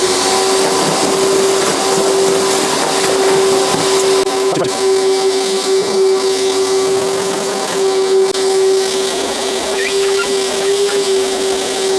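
A 3000W wet and dry vac running on one motor sucks up leaves with a loud, steady whine and airy roar, and brief rustling and clattering pass through the hose.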